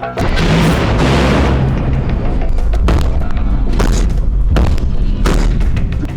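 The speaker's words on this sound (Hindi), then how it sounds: "किम के सामने रशियन नेवी ने मिसाइलें फायर की" Russian navy missiles are fired in a series of heavy booms, about six loud blasts at uneven intervals, each followed by a rumbling tail.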